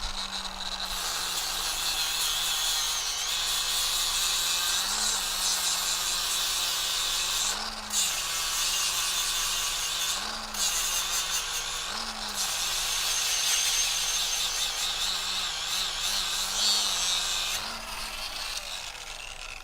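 A Tyrolit CERABOND X disc with coarse ceramic grain grinds a burr off an edge, giving a loud, continuous high-pitched grinding whine with brief dips as the load shifts.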